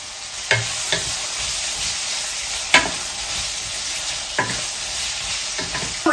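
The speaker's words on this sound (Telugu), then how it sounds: "నెక్స్ట్ ఇంగువ వేసుకుంటున్నాను ఇప్పుడు మనము ఉడికించుకున్నాం కదండి దవ్వ ముక్కలు ఇవి వేసేసుకుంటున్నాం" Boiled vegetable pieces and asafoetida being stir-fried in a hot pan, a steady close sizzle broken by several sharp scraping clacks of a spatula at irregular intervals.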